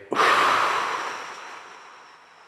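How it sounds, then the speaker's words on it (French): One long inhalation through the nose while lying down, part of an abdominal breathing exercise. A sudden close, airy rush eases off gradually over about two seconds, with no talking. "Vous inspirez."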